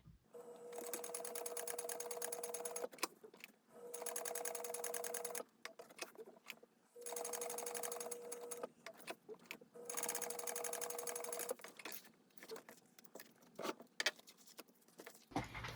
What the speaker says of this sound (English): we're going to go ahead and just top stitch this bottom of the accent here